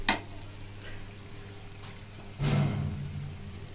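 Pav bhaji spices frying in a pan as they are stirred, giving a steady close sizzle with a louder burst of frying and scraping about halfway through.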